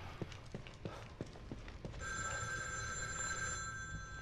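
In the horror game The Evil Within 2, a telephone bell starts ringing partway through and holds steady and bright. Before it, a run of sharp footstep-like clicks can be heard.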